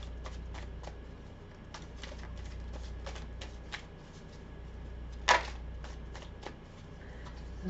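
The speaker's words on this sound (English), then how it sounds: "Let me pull 3 more cards here." Tarot cards are shuffled and drawn in a steady run of soft riffling flicks and taps, with one sharper slap partway through, close and clear over a low steady hum with no talking.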